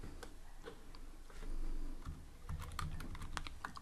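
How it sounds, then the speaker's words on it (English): Quiet, close clicking of computer keyboard keys as a word is typed, with irregular taps spread over a few seconds in a still room. "I'm gonna type Pycharm."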